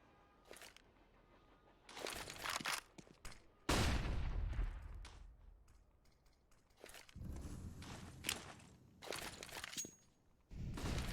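SMG gunfire at close range in a Counter-Strike match on the Train map, quick bursts of shots mixed with footsteps and game noise, fairly faint overall with a louder burst partway through.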